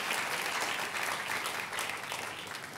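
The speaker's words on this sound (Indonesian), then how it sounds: "kalau mau tepuk tangan yang paling meriah buat Yesus Tuhan kita" Church congregation applauding Jesus during a sermon, a steady wash of many hands clapping for about three seconds, fairly soft and continuous with no voices over it.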